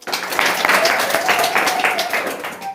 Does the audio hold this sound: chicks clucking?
no